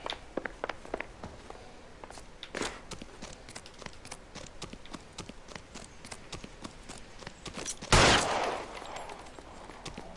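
Gunfire in the video game L.A. Noire: a rapid run of sharp shots with scattered cracks, then a louder, denser burst of firing near the end.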